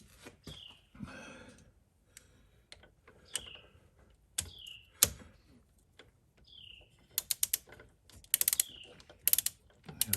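Wrench tightening head gasket bolts on a KRX, torqued to 22, heard as a series of close ratcheting clicks and metallic taps in short bursts with pauses between, no talking.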